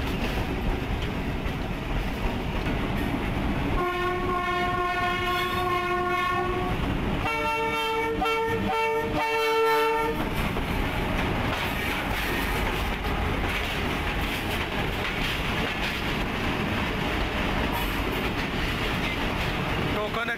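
A Pakistan Railway train rolls onto a station loop line, sounding two long, loud horn blasts over a steady rumble and clatter of wheels on track, with a voice talking underneath.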